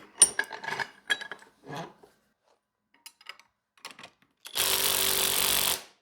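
A Uaoaii IW800 brushless cordless impact gun, set to reverse, runs in one loud, dense burst of hammering lasting about a second and a half near the end, after scattered clinks and knocks.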